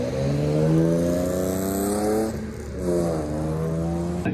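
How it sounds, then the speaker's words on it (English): Drift cars at a nighttime drift event, Brew City Banger, with engines revving hard and holding high, a brief dip, then climbing again, loud and close with no talking. "finally getting some cars to roll up here."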